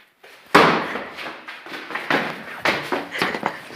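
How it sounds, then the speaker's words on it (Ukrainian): Several heavy impacts in a row: one loud bang followed by a series of thuds and knocks as a door is kicked and slammed repeatedly, close by. "Ми грохнули двері"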